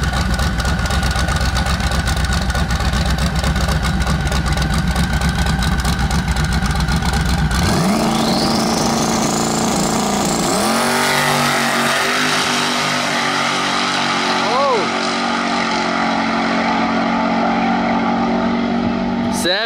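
Drag car fitted with a 5-speed Lenko transmission launching loud and close, the engine note climbing steadily with shifts through the gears, an earlier stretch of engine rumble and crowd noise giving way to the sustained pull.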